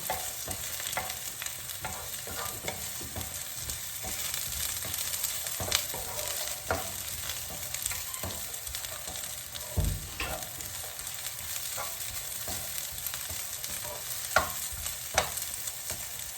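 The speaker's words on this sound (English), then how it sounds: "just stir it in, keep it moving, and let them pick up some of the heat off the pan" Courgette and other vegetables stirred in a hot pan for a Cajun vegetable wrap, a steady broadband sizzle with repeated scraping stirs and occasional clinks, close and continuous with no talking.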